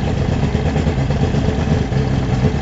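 A Mercury 225 outboard idles steadily on a Boston Whaler Outrage sitting on a trailer, a close, even, rumbling engine burble with no one talking.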